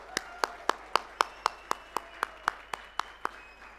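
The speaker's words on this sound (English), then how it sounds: "A thunderous round of applause" Sharp, evenly spaced claps ring out at a brisk steady rhythm, about four per second, at a conference gathering, sounding like a few hands rather than a full crowd.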